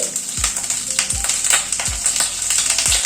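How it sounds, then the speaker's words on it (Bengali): Capsicum frying in hot oil, a close steady sizzle with a few regular low thumps or taps about once a second, no voices. "এটাকে দিয়ে দিচ্ছি তেলে। সাথেই ক্যাপসিকাম দিয়ে দিচ্ছি"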